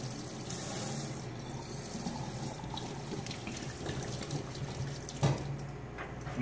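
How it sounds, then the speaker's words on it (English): Tap water runs steadily into a sink while an electrophoresis gel tray is rinsed, a soft continuous splashing with a brief louder spatter near the end. "Rinse it a couple times."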